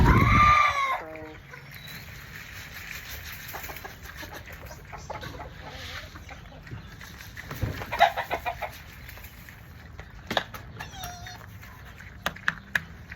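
Chickens clucking and squawking in a farmyard, scattered calls at moderate distance with a loud squawk at the start and occasional rustling.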